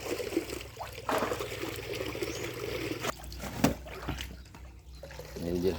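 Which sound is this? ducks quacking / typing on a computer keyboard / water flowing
water flowing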